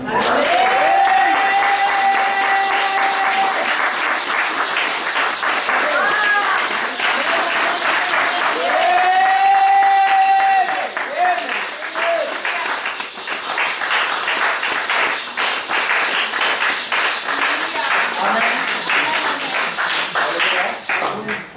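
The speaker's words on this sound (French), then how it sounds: "Est-ce qu'on peut acclamer pour le Seigneur?" A church congregation claps and cheers for the Lord, a dense, sustained wave of applause filling the room throughout, with occasional voices and tonal sounds rising through it.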